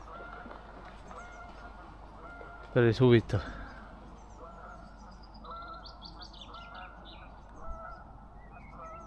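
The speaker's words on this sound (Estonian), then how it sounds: "Luika jääb hanesid taga, et haned on tema territooriumil vist." Geese honk in a short loud burst of several calls near the middle, with a swan chasing them off its territory by the water; faint bird calls and ambient noise surround it, and a person speaks briefly.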